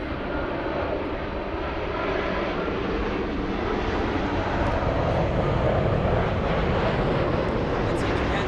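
A Japan Airlines Boeing 787 Dreamliner jet at LAX airport makes a steady, broad engine roar that stays even and fairly distant throughout.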